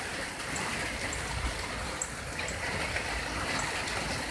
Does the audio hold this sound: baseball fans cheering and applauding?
no